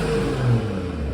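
BMW 340i with a B58 turbo engine, new intake and downpipe, giving a brief, steady low engine drone with a slight swell in the middle, heard from inside the car.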